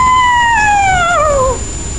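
A single long, drawn-out wail of tormented souls in a wood of suicides, sliding slowly downward in pitch for about a second and a half, loud and eerie, then fading into dim background noise.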